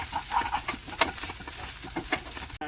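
Chorizo sizzling and frying in a pan while being stirred so it won't stick, a steady crackle with scattered scraping and tapping of a utensil, ending with a brief clatter.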